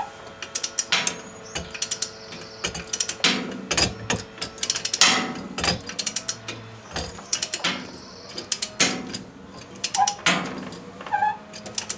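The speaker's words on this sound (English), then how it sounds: "I'm going to torque the lower bolt to 107 foot-pounds" A torque wrench on the lower shock bolt of a C5 Corvette fitted with Bilstein shocks gives rapid ratcheting clicks in uneven bursts, close and sharp, with metallic knocks between strokes and no talk.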